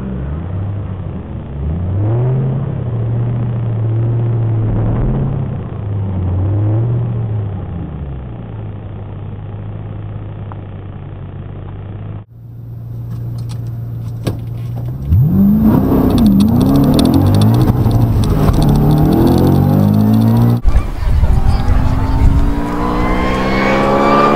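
Rally cars lapping a circuit at Halli: a steady low engine drone for several seconds, then louder, closer revving and accelerating engines that sweep up in pitch as cars pass.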